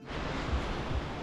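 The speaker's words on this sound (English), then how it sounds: "Is one beautiful waterfall." Brush Creek Falls in Mercer County, West Virginia rushes in a dense, steady roar of falling water with a faint rumble underneath, constant and unbroken with no voices.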